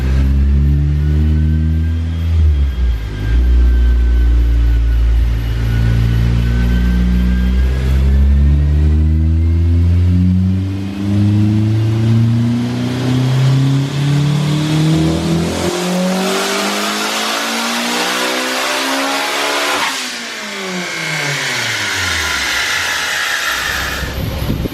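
Tuned car engine on a dyno pulling one long, loud run, its revs climbing steadily with rising harmonics, easing off briefly near the end, then revving again as the pitch falls away.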